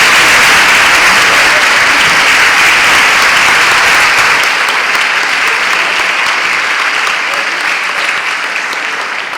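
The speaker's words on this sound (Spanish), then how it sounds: "Yo le pediría un aplauso" Loud, dense applause from a large audience at a lecture event in Xalapa, Veracruz, a continuous roar of clapping held for over nine seconds and tapering slightly at the end.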